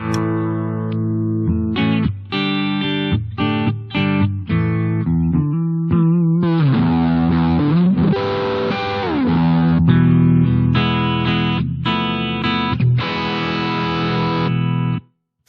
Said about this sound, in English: you can obviously hear there that the distortion is softer than the clean